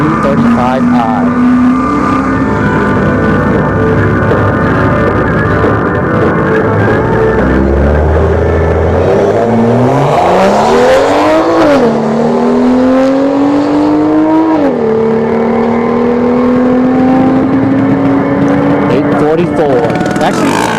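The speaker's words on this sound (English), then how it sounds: "this is the last car of the night. The 335i." A BMW 335i launching down a drag strip at night, a loud close engine roar climbing steadily in pitch through gear changes, with a voice talking over it.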